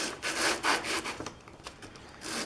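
A turned wooden piece is sanded by hand with sandpaper, giving close, loud rasping back-and-forth strokes in an uneven rhythm, with no talk over it.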